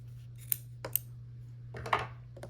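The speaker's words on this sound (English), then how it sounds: "So now I'll just flip it closed. I'll trim with my scissors." A few crisp snips of scissors trimming quilting fabric, spaced irregularly and close by, over a low background hum.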